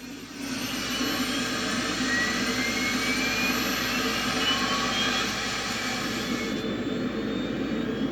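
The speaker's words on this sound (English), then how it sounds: "number 2 engine start" Steady jet engine roar with a rising whine as a T-2 Buckeye's number 2 engine starts in a flight simulator, loud and continuous throughout, ending in a slightly quieter hum.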